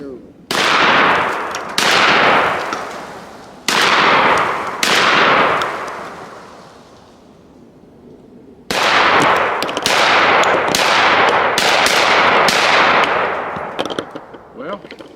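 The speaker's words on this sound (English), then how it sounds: "So let's just shoot at a few things we have out here on the ground." A Mossberg 940 JM Pro semi-automatic shotgun fired outdoors at targets on the ground: loud, sharp blasts in quick bursts, a group of four, a pause, then a faster string of shots with ringing decay.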